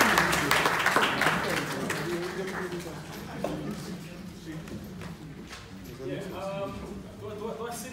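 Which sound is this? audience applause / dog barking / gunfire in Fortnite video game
audience applause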